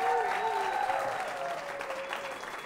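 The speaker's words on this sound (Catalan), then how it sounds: "Aplaudiments, us plau" Audience applause during a Catalan school quiz show broadcast, a steady wash of clapping that fades slightly, with tonal music or voices layered over it.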